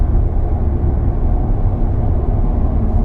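Inside a SEAT Ibiza supermini with a 1.5 litre engine cruising at 70 mph, a steady, muted broadband road and engine drone fills the cabin evenly, with no voices.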